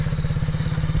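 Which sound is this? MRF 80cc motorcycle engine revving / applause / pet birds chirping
MRF 80cc motorcycle engine revving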